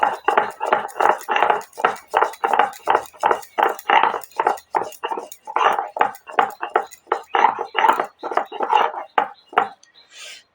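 Black cumin being ground by hand on a shil pata stone, a steady run of rhythmic gritty rubbing strokes, loud and close, repeating about twice a second.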